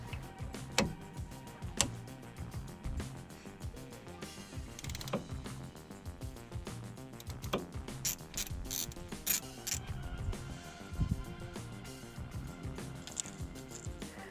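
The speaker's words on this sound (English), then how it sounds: "I was using this ratchet with turbo/twist socket for the strip bolt." A Gedore ratchet with a twist socket loosens a bolt, giving rapid bursts of close, crisp metallic clicking in uneven runs with short pauses between strokes, alone without speech.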